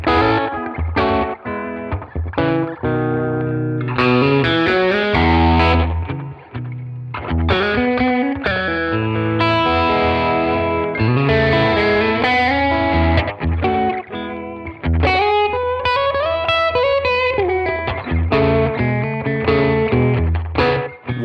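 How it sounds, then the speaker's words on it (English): A Fender Ariel Posen Stratocaster played through the bridge and neck pickups together, with effects and some overdrive, in the Fender Custom Shop: a continuous melodic electric guitar passage of chords and lead lines, loud and alone for about twenty seconds. "the bridge pickup with the neck separately are very musical and just enough, but not too little output"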